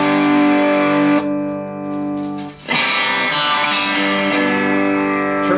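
A 1966 Telecaster played through a Carr Mercury amp with a touch of reverb rings out in sustained chords, one struck partway through with a sharp attack, bright and clean, heard alone without speech.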